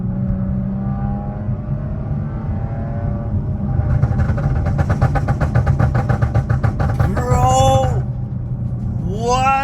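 Straight-piped Kia Stinger exhaust: a loud, steady, rumbling idle rises into a harsher, rattling roar during the downshift to second gear, with brief revving swells near the end and a short spoken remark over it.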